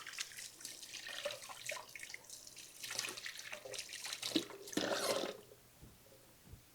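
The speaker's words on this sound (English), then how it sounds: "let me wash my hands again" Tap water runs and splashes over hands being washed in a kitchen sink after greasing a pan with butter for buttermilk biscuits, a steady close rush with shifting splashes that stops near the end.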